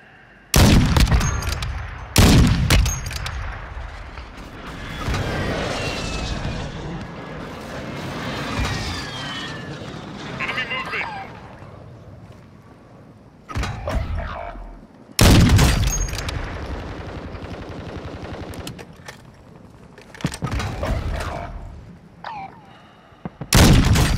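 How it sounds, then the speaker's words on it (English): Call of Duty: Modern Warfare II combat roars with loud bursts of gunfire and heavy booms from a precision airstrike. Rumbling explosions swell and fade between sharp volleys. "Friendly precision airstrike inbound."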